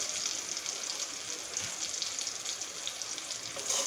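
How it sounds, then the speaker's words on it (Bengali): Onions fry in a pan with a steady, soft hiss and crackle that stays even throughout, with no voices. "পেঁয়াজটাকে আমি ভেজে নিব ভালো করে।"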